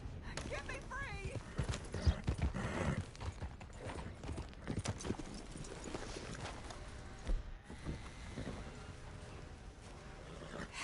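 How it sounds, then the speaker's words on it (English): Hooves clip-clop steadily under a busy, noisy scene, with a horse snorting and agitated voices shouting in the background as a rider begs to be helped off the horse. "Help me off this goddamn horse!"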